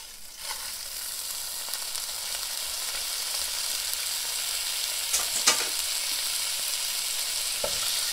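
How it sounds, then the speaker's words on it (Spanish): Cleaned rice fries in hot oil in a pan, a continuous close crackling sizzle with a few sharper pops and stirring scrapes. "Ya aquí le voy a agregar mi arroz limpio."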